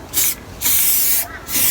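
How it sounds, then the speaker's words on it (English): Short bursts from an aerosol spray paint can laying down a neutral pink background colour on a stencil, three quick hissing squirts with brief pauses between, close and fairly loud. "lightly spray in quick squirts"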